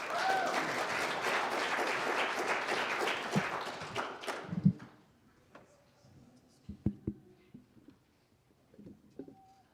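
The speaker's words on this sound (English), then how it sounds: "A round of applause for these beautiful musicians." An audience applauds musicians at a spiritual gathering: dense, loud clapping for about four seconds, then fading into a few scattered claps and light rustling.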